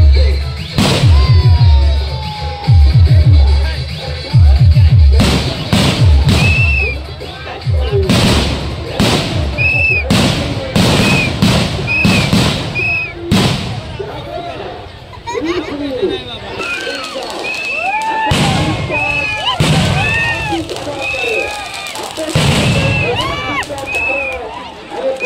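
Firecrackers and fireworks bursting outdoors in India, loud sharp bangs and crackling volleys going off in irregular clusters, with whistling rockets and a chattering crowd talking throughout.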